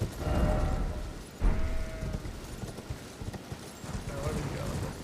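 Horse hooves clip-clop in a steady galloping rhythm during a ride in the video game Elden Ring, mixed with game sound and someone talking over it.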